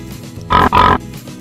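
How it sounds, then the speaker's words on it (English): A pig, a farm animal, gives two quick, loud, nasal grunting oinks in close succession, each lasting about a quarter second. "Pig."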